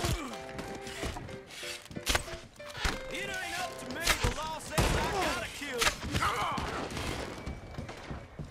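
Gunfire in a Red Dead Redemption Online bar shootout with cops, scattered shots and sharp thuds spread throughout, mixed with excited voices talking over the action.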